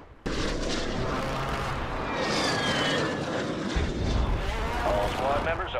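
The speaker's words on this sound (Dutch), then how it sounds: "Spawnt er net een helikopter." A helicopter spawns in Warzone amid a loud battle, with a continuous roaring engine and rotor wash mixed with heavy gunfire and blasts, and a faint voice under the din.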